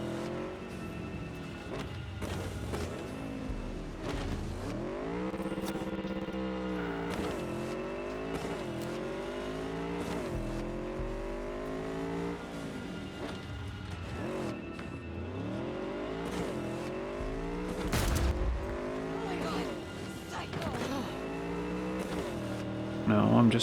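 A car in Cyberpunk 2077 roars through a chase, its engine revving up and down in repeated sweeping pitch climbs with shifts and occasional tire noise, sustained and close throughout.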